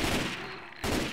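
Rapid gunfire from Left 4 Dead 2 in a versus match, a dense continuous burst that drops off briefly before firing resumes at close range.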